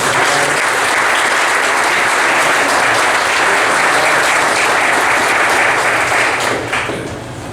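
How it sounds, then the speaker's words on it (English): Guests at a 60th birthday roast and toast giving a hearty round of applause, loud continuous clapping from a crowd close by that swells, holds steady, then tapers off at the end. "let's give them a round of applause"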